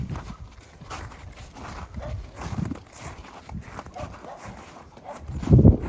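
Two mares for sale walking calmly, their hooves clip-clopping at a slow, uneven pace, with a louder thump near the end.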